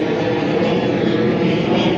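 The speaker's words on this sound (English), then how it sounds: "plane going overhead." A plane passes overhead as a loud, steady engine roar that fills the whole stretch without fading, and no voices are heard over it.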